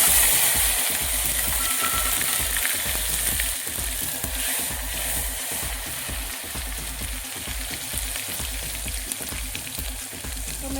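Cumin seeds and asafoetida fry in hot oil in a home kitchen, a steady close sizzle and crackle that runs unbroken, with faint stirring scrapes mixed in.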